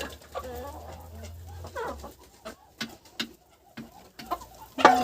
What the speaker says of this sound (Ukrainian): вредна курка